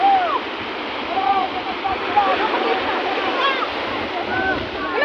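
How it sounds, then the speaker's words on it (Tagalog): Strong sea waves rush and splash continuously against the shore, a loud churning wash of water with faint shouting voices mixed in. "malakas ang alon"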